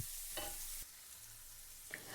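Brinjal pieces spread out in a pan fry with salt added, giving a soft, continuous sizzle with a few brief scrapes and stirring taps, quiet and close with no speech.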